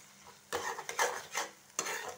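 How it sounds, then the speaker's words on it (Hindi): Masala spices being roasted for stuffed brinjal (bharwa baingan) in a pan: a utensil scrapes and stirs in several short bursts over a soft sizzle, close and fairly quiet. "मसालों को अच्छी तरीके से हमें भुनना है।"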